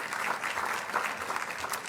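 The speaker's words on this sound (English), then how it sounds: "Give them a round of applause for providing our wine." Steady audience applause at a Page Ahead reading fundraiser event, a dense, even wash of many hands clapping at moderate distance, with no talk over it.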